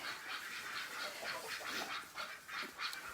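Many geese honk at once inside a barn in a noisy, overlapping chorus, their calls echoing, continuous and fairly faint.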